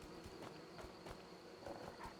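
Insect buzzing from a bee in the video game Skyrim, a faint steady drone with soft repeated pulses running through a short stretch of quiet game ambience.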